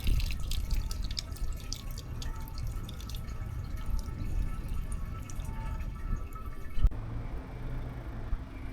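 Groundwater spring trickling from a step-like terrace scarp cliff along a river in Chichibu, a steady soft dripping and running water over low outdoor rumble, fairly quiet and continuous.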